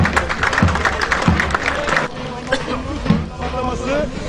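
A crowd at a Turkish oil wrestling tournament in Bursa applauds the head wrestlers, steady clapping mixed with crowd babble and some talk, fading somewhat after the first two seconds.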